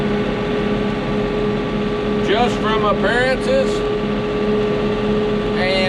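A New Holland tractor engine drones steadily while driving, a loud, constant hum with a steady tonal whine, heard from inside the cab as someone talks briefly over it.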